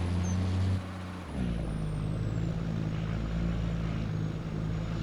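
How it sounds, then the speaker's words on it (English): Heavy truck engine in a driving video game, a T800 mod, dropping briefly as it shifts and then pulling hard under load at a steady, loud drone throughout. "This truck can pull."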